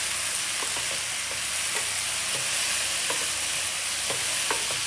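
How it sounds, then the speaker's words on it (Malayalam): Beans and prawns frying in a pan for a thoran, a loud continuous sizzle with faint, regular taps and scrapes of a spoon stirring throughout. "ഫ്ലെയിം കുറച്ച് വെച്ചിട്ട് വേണം ഇളക്കി മിക്സ് ചെയ്യാൻ."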